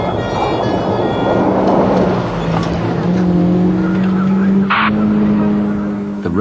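A stolen Rover car driven dangerously by fleeing thieves screeches, long tire squeals rising and holding over a loud engine roar, with a brief sharp burst midway.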